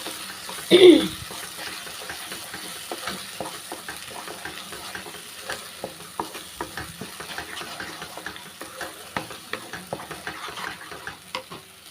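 Soft sizzling in a pan with repeated scraping and clinking as masala is stirred for Karnataka-style green field bean kuzhambu, steady and close after a brief knock at the start.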